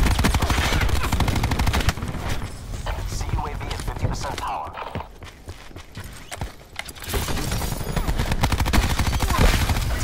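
Rapid automatic gunfire from an MX9 in a first-person shooter video game crackles in dense bursts, loud at the start and end with a quieter stretch in the middle.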